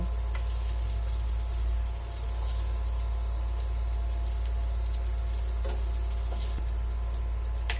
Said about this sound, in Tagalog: magigisa po tayo ng sibuyas at bawang